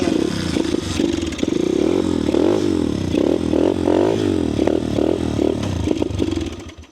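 A motorcycle engine revs hard and repeatedly up close, loud and rising and falling in pitch with some mechanical clatter, with no talking.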